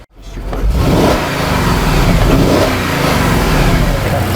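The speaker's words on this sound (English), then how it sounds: "I want to go ahead and I want to snap the throttle real quick" A 2010 Mercedes-Benz GL450 engine, which has a lean fault on bank 1 and bank 2, revs up sharply when the throttle is snapped and then holds a loud, steady, close-up roar for several seconds with no talking.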